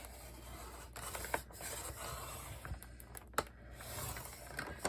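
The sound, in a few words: cutting a piece of paper for a scrapbook border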